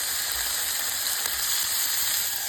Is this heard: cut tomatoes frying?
yes